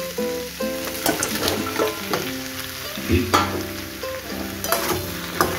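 Fish heads fry in a pan with softened potato and eggplant, giving a dense, steady sizzle broken by stirring scrapes and taps, under background music.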